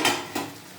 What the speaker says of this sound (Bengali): ঢাকনাটা খুললাম